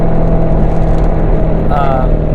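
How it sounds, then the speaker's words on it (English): A manual C7 Corvette Z06 engine drones with a deep, steady exhaust rumble on a track, loud and close, with a brief higher whine near the end. "On track, my gosh, this exhaust sounds so"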